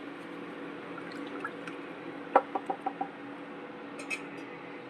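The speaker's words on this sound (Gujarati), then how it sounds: "પાણી આપણું સારી રીતે ઉકળી ગયું છે" Quiet, steady simmering hiss of water boiling in a pressure cooker, broken by a short run of small bubbling pops.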